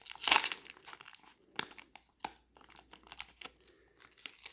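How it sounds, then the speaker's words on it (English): A tightly sealed Elestrals trading card booster pack being torn open from the back, with close, sharp tearing and crinkling of foil wrapper in several quick bursts separated by pauses. "I might have to just tear down the back here"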